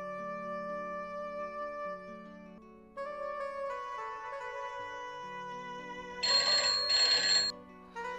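A phone ringtone plays a looping electronic melody, tones shifting in pitch, then two louder bright bursts near the end before it cuts off.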